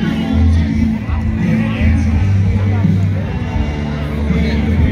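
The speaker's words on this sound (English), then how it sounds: "Look at the crowd a little bit" Crowd gathering outdoors before a 90s country band's concert in Missouri, a steady, loud murmur of many voices and background hubbub with a low hum throughout.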